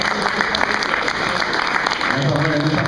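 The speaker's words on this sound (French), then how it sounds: "Je pense que tout le monde peut l'applaudir" An audience at an award ceremony for graduates claps continuously, a dense and steady wash of hands clapping throughout a hall at moderate volume.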